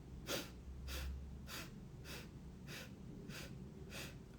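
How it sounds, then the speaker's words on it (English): Seven short, even sniffs drawn in through the nose during a meditative breathwork exercise, spaced about half a second apart, soft and close with no talking. "Short inhales through the nose to make one complete inhale."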